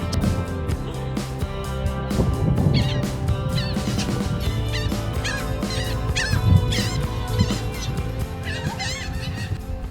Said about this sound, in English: Got birds.